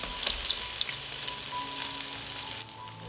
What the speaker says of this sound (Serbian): I pripremljene tikvice spuštamo na ulje i pržimo po 3 minuta sa obe strane.